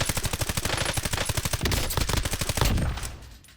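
Rapid automatic fire from an MK35 ISR rifle in a video game, a fast steady burst of close, loud shots lasting about three seconds before fading out.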